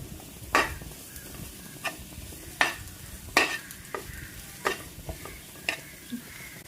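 Chicken masala is stirred into a frying filling with sharp spatula scrapes against the pan, about a dozen irregular strokes over a soft sizzle, close up and without talk.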